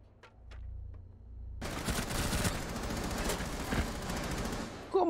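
Gunfire in a shooter video game, a dense burst of rapid automatic shots that starts suddenly after a brief quiet lead-in and carries on loudly to the end.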